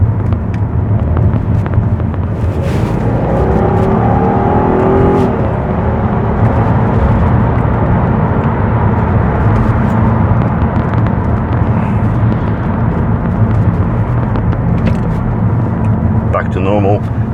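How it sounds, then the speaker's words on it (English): A 2007 Audi TT Roadster 3.2 VR6 quattro with DSG gearbox drives with steady engine drone and road noise while downshifting, the revs rising briefly in one quick change, with a person talking over the cabin noise. "Let's just try and listen to the gear changes, see if you can hear it at all, but they're super quick, honestly"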